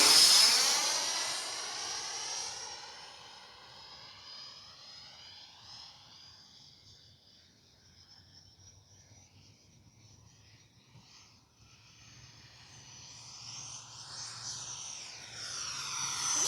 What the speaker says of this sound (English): I'm gonna shut up and just let you hear the jet